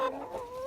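Chickens clucking in a barn, one short close cluck with a brief tonal rise, fairly quiet and alone.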